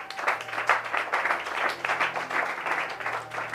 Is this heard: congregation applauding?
yes